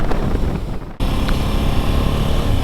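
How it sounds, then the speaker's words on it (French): Steady wind over a lake in the Alps buffeting the microphone, loud and broadband, with a brief dropout partway through before the gusting rumble resumes. "il y a un vent ici"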